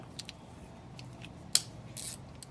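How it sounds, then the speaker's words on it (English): A ratchet wrench with a 12mm socket works on an alternator bolt of a Subaru 2.5L engine, giving a few quiet, scattered clicks and a brief metallic snap against faint background hiss. "just get a 12mm and a ratchet"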